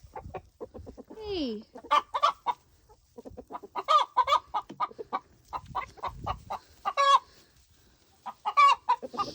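Hens clucking and an Americana rooster calling in a busy run of short, repeated bursts, with a brief spoken greeting in between.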